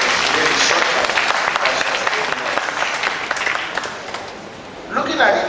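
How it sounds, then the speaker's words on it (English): An audience applauds at the Centre for Gender Studies Annual Seminar 2017. Dense, loud clapping runs steadily for several seconds, and a voice briefly rises near the end. "I think she deserves a round of applause for those actions."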